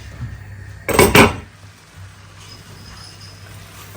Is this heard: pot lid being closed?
yes